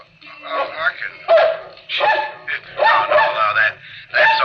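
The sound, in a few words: dog barking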